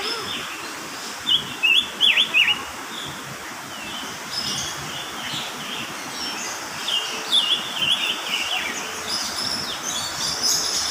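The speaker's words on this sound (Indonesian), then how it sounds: "Nah, itu kutilang kecil-kecil nggak kelihatan." Small bulbuls sing outdoors in two short bursts of high, quick chirps over a steady background hum, fairly distant and not very loud.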